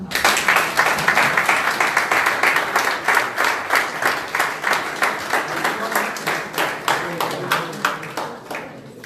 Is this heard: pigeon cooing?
no